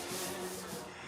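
A longboard fitted with 80-grit paper rubs across the body panel of a Ford ZF Fairlane under restoration, a close, steady abrasive scraping that lasts about a second with no talk.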